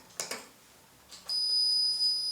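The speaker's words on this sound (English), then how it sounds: "An alarm is triggered which ceases only if an authorized person checks in." A smart key security system sounds its alarm after wrong attempts: a few soft clicks, then a sustained high electronic tone that holds steadily and quietly.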